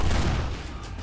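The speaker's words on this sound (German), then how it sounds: "Wir haben gleich zwei Granaten vorgeworfen." Grenade blasts in the video game Kane & Lynch, a dense continuous roar of explosions and gunfire filling the whole moment, loud and close with no break.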